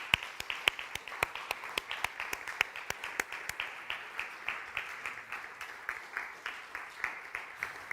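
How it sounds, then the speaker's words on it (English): Applause rises from a conference audience at a human rights event, sparse distinct claps at first that settle into a thinner, steady, moderately quiet patter. "another round of applause, please, for Victoria from Budapest Pride."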